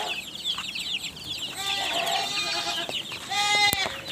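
Farm chickens cluck and squawk in a dense overlapping chorus, close and fairly loud, with sharp higher calls rising toward the end over a constant outdoor background.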